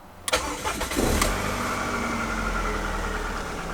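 A Rover 75 car engine cranks with a brief starter whir, catches and fires up from cold, then settles into a steady, quiet idle close by.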